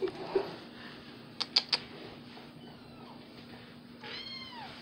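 A house cat meows a few times, faintly and indoors, in a short series of soft cries over a low background hum.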